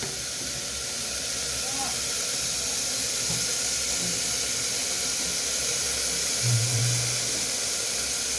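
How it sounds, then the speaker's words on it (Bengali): Water poured into a pot of chicken stew on the stove gives a steady, loud hiss and rushing sizzle that holds evenly throughout, with a brief low bubbling swell near the end. "এবার আমি এর মধ্যে জল দিয়ে দেবো"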